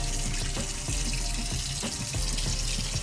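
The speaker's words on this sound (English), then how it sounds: "So right now, taking the meat and washing it, you know, breaking it apart." Raw meat is washed and broken apart under a running kitchen tap. Water gushes steadily into the sink, with irregular splashes and sloshes as the pieces are handled up close.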